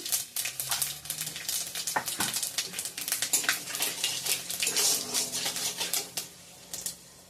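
Panch phoron spices fry in hot oil with bay leaf and dried chilli for moong dal, giving a dense, close crackle and popping that spits irregularly throughout before easing near the end.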